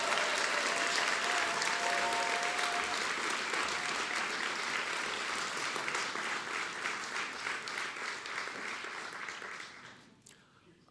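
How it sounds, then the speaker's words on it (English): Big sustained round of audience applause at a New York Youth Symphony annual benefit, many hands clapping densely and steadily for several seconds, full and close, with some crowd voices under it before it fades out abruptly. "give Shauna and our 5 artistic directors one more big round of applause"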